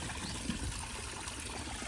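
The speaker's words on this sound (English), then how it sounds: "it pumps water out and around and up to the waterfall and then back out" Water pumped up from a small garden fish pond trickles over a little waterfall, giving a steady, soft, even splashing wash with no breaks.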